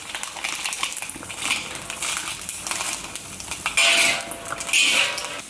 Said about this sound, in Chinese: 边炒边挤压